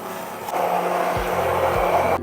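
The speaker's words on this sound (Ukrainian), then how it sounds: "І збиваємо все до однорідної маси." A blender whips a smooth liver mixture with cream, spices and baking powder for a liver casserole, a steady close whirring drone that starts after a quiet moment and runs on with two low thumps, no talk.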